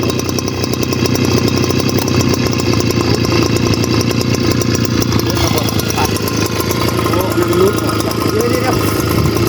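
A small engine on a rice sprayer machine runs steadily after starting, a loud, continuous buzzing drone at close range with little change throughout.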